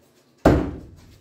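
A custom throwing cleaver thrown with a full spin strikes a wooden target, one sharp loud thunk that decays quickly, alone.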